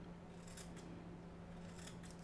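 Large scissors snip through fly-tying material in a rough trimming cut, a faint, brief cutting sound over a low steady hum.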